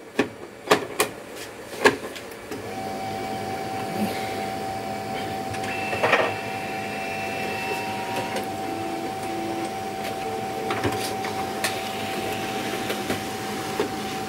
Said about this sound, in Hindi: अभी प्रिंट हो गया इस तरह का डॉक्यूमेंट